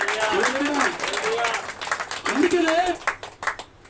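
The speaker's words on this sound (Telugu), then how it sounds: "గట్టిగా చప్పట్లు కొట్టాలి." A church congregation claps along at a Sunday Baptist service, with sustained hand claps running under loud singing or chanting voices.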